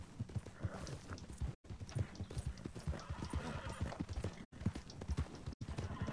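Rhythmic clip-clop of a mare's hooves in the video game Red Dead runs throughout with the horse whinnying over it, interrupted by a few abrupt silent cuts.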